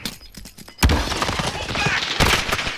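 Gunfire in Call of Duty: Modern Warfare, a sudden loud burst of shots followed by sustained crackling fire and a second heavy volley, with brief talk mixed in.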